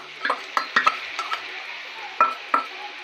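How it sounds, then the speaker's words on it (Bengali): Poppy seed paste being stirred in a pan for alu posto, with a spatula giving several sharp knocks and scrapes against the metal over a steady low background hiss. "এবার পোস্ত বাটা দিয়ে এবার নাড়াচাড়া করবো।"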